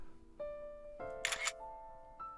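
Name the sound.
camera shutter snap in the video game Criminal Border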